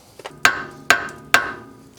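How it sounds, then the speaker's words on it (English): A brass hammer strikes the wheel studs on the front axle of an 80 Series Land Cruiser, three sharp metallic blows at an even pace, close and loud, preceded by a couple of lighter taps. "just pounding on the studs with a brass hammer does the trick"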